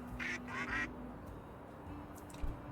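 Two short bursts of duckling quacking from the video game Little Kitty, Big City, fairly close, followed by quieter background hum and faint chirps.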